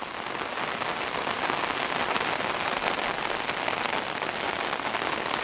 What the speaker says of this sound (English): this is my first time outside with all this rain going on